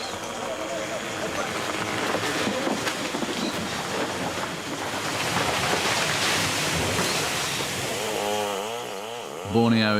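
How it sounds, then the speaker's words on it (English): A chainsaw cuts trees in the Borneo jungle, a steady buzzing drone at middle distance that runs throughout, with a voice briefly heard near the end. "a chainsaw is hard at work making its own music."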